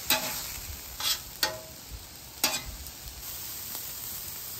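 Steak cooks on a griddle over low heat with a faint, even sizzle, punctuated by a few brief spatula scrapes and taps near the start.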